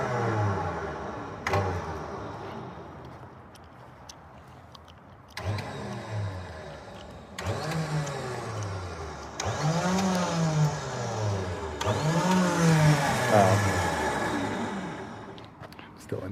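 Harbor Freight 12,000 lb winch powered by 24V LiFePO4 batteries whirs with a rising and falling motor pitch in repeated bursts, sounding moderately close, with brief pauses between pulls and a voice talking at times over it.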